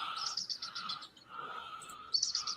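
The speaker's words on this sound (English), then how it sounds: "There's a bald eagle watching us." A bald eagle calls outdoors in a series of thin, high chittering notes that come in quick repeated bursts, fairly faint and at a distance, with no talking.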